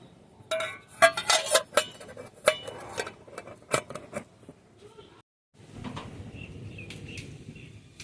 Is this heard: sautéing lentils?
no